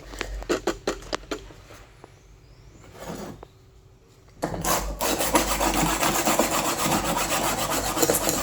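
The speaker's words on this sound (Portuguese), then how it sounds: "Vou pegar aquela lixa, ainda vai ser grão 36, para ser mais rápido" Steel knife blade clamped to a bench and hand-sanded with coarse 36-grit sandpaper: sparse scraping strokes at first, then from about four seconds a loud, steady run of rapid rasping strokes, close by.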